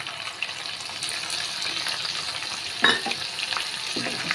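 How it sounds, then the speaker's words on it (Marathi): Masala paste with chilli powder frying in oil on a slow flame for a Goan mackerel fish mole: a steady, dense sizzle with occasional stirring scrapes and a louder clack near the end, no talking. "स्लो फ्लेमीचेर बरें करून फ्राय कोता"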